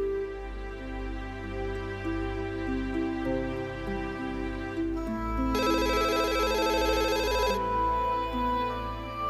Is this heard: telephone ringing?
yes